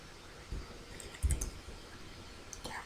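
A few soft mouse clicks in PowerPoint while the rotate tool is picked from the arrange group and a horizontal flip is chosen, spaced irregularly over quiet room noise.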